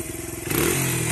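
A 2001 Honda XR100R motorcycle engine rises in pitch as it approaches, its single-cylinder buzz growing louder and revving harder midway through a brief, close pass.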